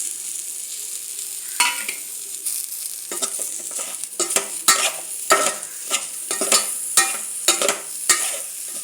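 Cooked cauliflower with salt and turmeric being tossed and stirred into frying masala in a pan, a soft sizzle broken by repeated sharp scrapes and knocks of a spoon against the pan, close-up and without speech.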